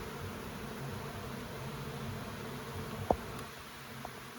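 Honey bees swarm around an opened hive during an inspection, making a faint, continuous buzzing hum, with one brief sharp knock near the end.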